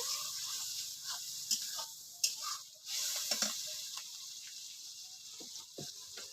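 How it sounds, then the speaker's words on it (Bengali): Prawns, added after fried fish, are sautéed in a pan: a faint, steady sizzling hiss broken by a few sharp scrapes and clinks of stirring. "চিংড়ি মাছ ভালো করে কষিয়ে নিতে হবে এই দেখুন কষিয়ে নিচ্ছি"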